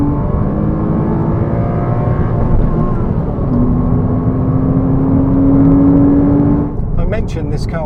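Porsche Cayman 987 with a 2.7 engine revs hard toward the limiter, a loud, sustained engine howl that climbs in pitch, then drops away near the end.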